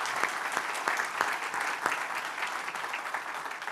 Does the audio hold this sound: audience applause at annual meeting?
yes